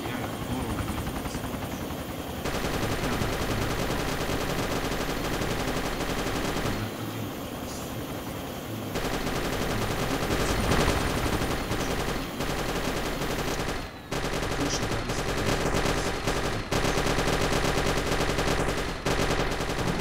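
Bursts of gunfire crackle in the ARMA 2 video game alongside a running helicopter engine, loud and dense with short pauses, while players talk over it.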